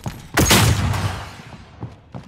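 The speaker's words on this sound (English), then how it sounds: "Flashbang out!" A flashbang grenade going off in Call of Duty: Modern Warfare, one loud sharp bang that rings out and decays over a second or so, followed by a couple of fainter distant thumps.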